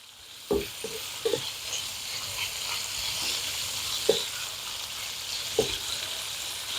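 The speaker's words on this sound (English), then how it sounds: "like a stir fry, you're constantly moving it to keep it from burning on any one side" Japanese-style fried rice being stir-fried in a pan: a steady sizzling hiss runs throughout, broken by several sharp scrapes and knocks of the spatula against the pan at irregular intervals, with no talking.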